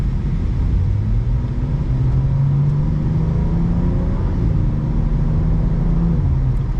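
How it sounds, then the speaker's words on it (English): A 2024 BMW M2 CS with a transmission tune pulling away from a stoplight, its engine a loud, steady low drone with the pitch slowly rising and holding, heard from inside the car. "We're going to take off from this stoplight here and see how it performs from 0"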